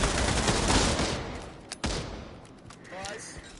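Gunfire in the VR shooter Pavlov VR: a burst of rapid shots at the start, then a couple of sharp single cracks, with a voice talking in the background.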